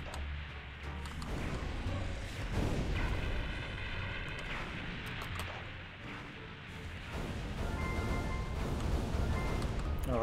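Heavy booming cannon blasts in Roblox Grand Piece Online roll and rumble one after another over water, loud and continuous, echoing across an open space.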